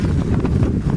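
Brief gusty wind buffeting a microphone outdoors beside a beehive during winter feeding, a low rumbling roar with uneven puffs.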